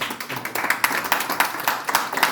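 A church congregation claps together in a steady rhythmic beat, a run of sharp, evenly spaced claps at close range, lively and unaccompanied by talk.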